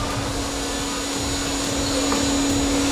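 Spindle of an RTC.2030 CNC router running in a test with the tool exposed, giving a steady, close, high-pitched whine with constant loudness and no talk.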